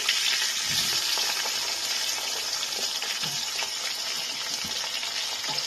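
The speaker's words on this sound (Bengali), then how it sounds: "আলুগুলোকে একটু আমি ভেজে নিচ্ছি। আলুটার মধ্যে আমি নুন হলুদ মাখিয়ে রেখে দিয়েছিলাম, এটাকে আমি একটু ভেজে নিচ্ছি।" Potato pieces coated in salt and turmeric sizzle in a pan of hot oil, a steady bright crackling hiss with a few soft stirring knocks, heard alone without speech.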